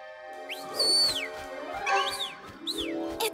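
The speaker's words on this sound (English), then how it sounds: "There! A bird!" A cartoon bird calling at night, a series of bright sliding whistled chirps over a held musical tone, with soft rhythmic plucked notes beneath, clear and close.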